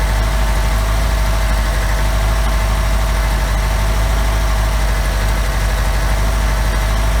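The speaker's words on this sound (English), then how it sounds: "Pretty quiet, pretty smooth running little motor." A small OMC outdrive boat motor idles smoothly and steadily at close range, a constant low engine drone with even vibration throughout and no voices.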